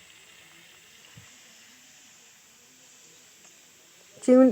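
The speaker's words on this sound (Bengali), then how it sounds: "চিংড়ি মাছগুলো এইভাবে ভালোভাবে ভেজে নেবো" Shrimp frying in hot oil in a kadai makes a faint, steady hiss across the whole stretch, and a voice cuts in briefly at the very end.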